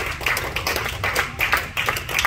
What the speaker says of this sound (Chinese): 我们用掌声欢迎我们的学生会友